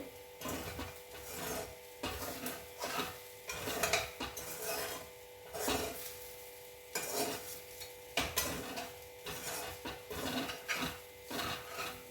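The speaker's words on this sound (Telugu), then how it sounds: "ఇంత కొంచెం చిన్న స్పూన్ తోటి ఇదంతా మంచిగా కలుపుదామండి" A small spoon stirring and scraping amla (gooseberry) rice mixed with roasted spice powder in a pot, repeated rhythmic scrapes and light metallic clinks, close but fairly quiet, with no voices.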